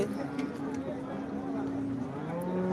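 Cattle low and shift amid the steady crowd murmur of a busy livestock market where cows are being sold, with people talking throughout and a continuous bustle of background chatter.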